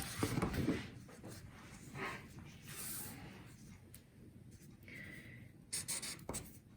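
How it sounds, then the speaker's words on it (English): A marker squeaks and scratches across paper while writing a greeting on a card for mailing, heard in short close strokes with pauses between them, accompanied by faint background voice sounds. "Let's write"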